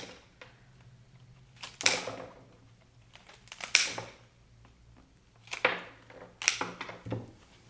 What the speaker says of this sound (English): I'm gonna cut the excess. These are so nice, the scissors.